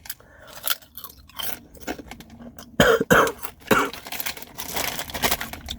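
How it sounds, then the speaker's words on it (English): Sherry vinegar and salt crisps being eaten in a parked van, with several sharp crunchy bites clustered mid-clip over a background of rustling and small handling noises; no one speaks. "Let's try one of these crisps. Sherry vinegar with salt."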